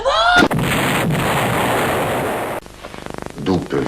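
A sudden loud explosion booms close by, then a long, roaring rumble of debris and fire fades and cuts off, followed by brief crackling and faint voices.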